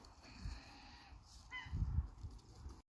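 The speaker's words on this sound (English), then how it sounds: "there was some sort of like a raveny crow fight thing over there" A group of crows squabbles and mobs one bird on a farm, harsh caws and squawks breaking out in bursts, some closer and louder, over a quiet outdoor background.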